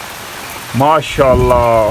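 Very heavy rain pours in a steady, dense hiss that continues throughout, while someone speaks briefly over it, his voice loud and close.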